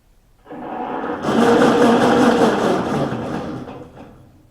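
A homemade Mario Kart–style go-kart engine fires up after a starter press, rising quickly into a loud, steady mechanical whir that runs for a few seconds before slowly winding down.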